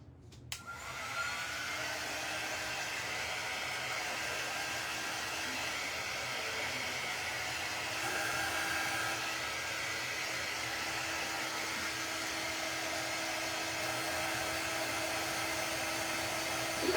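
A hair dryer blows steadily to dry paint on a jello mold pumpkin, a loud, continuous close whoosh that starts with a click and holds a constant hum throughout, with no talk.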